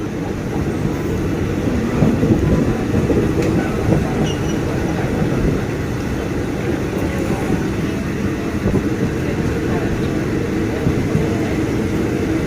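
A train on the Ratchaburi line in Thailand rumbles steadily along the rails, loud and continuous, with a faint rhythmic clatter of wheels.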